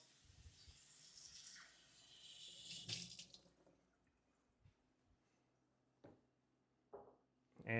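Running tap water splashes steadily while a metal cocktail jigger is rinsed under it, then the flow stops, leaving a few faint clinks and drips.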